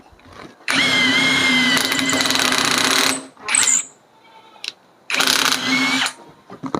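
An OSUKA OSID-520 cordless impact driver runs in two loud bursts with a brief buzzing gap between, a steady whining motor with rattling impact underneath, close by.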